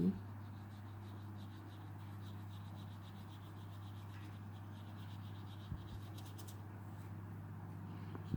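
Brush applying watercolor paint to paper for a portrait, a soft, faint, continuous scratching and rubbing of bristles close up over a low steady hum, with no speech.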